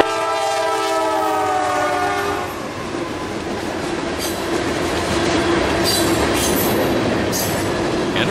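A CSX freight train passes, its horn sounding in long tones early on before giving way to a loud, continuous rumble of wheels and cars rolling by, with faint squeals and clicks on the rails.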